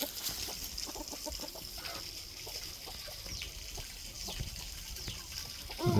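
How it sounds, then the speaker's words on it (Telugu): Free-range chickens on a rural farm give off scattered, faint clucks over a busy outdoor background, with occasional soft chirps and rustling and no one speaking. "కోళ్ళు చూడొచ్చు, గ్రామీణ ప్రాంతంలో మంచి యాక్టివ్గా న్యాచురల్గా పెరుగుతున్నటువంటి కోళ్ళు ఉన్నాయి ఇక్కడ."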